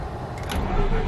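A Mazda RX8 fires up right after an oil change, a brief cranking catch swelling into a steady low engine rumble close by, loud and alone without talk.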